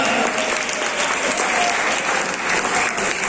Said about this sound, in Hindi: जोरदार तालियां बननी चाहिए